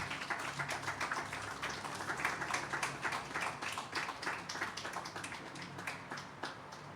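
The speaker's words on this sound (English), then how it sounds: "Another round of applause for Ruth Van Alstine" Outdoor audience applause for a poet at an open mic on King Street: a dense, steady patter of many hands clapping, fairly close and sustained through the whole stretch without letting up.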